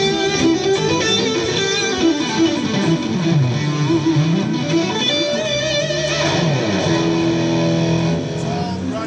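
An electric guitar with an amplified, effected tone plays continuously, with sliding melodic lines and sustained notes, loud and close throughout.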